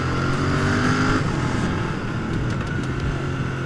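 Royal Enfield Continental GT 650 twin-cylinder motorcycle on the move, steady loud engine drone with wind rush, a shift in tone partway through as the gear changes.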